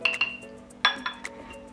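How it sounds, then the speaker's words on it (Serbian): A spoon stirs a strained herbal drink with lemon juice in a cup, giving several bright, ringing clinks against the sides in quick, uneven succession, with soft liquid swirling between them. "Napitak ću promešati"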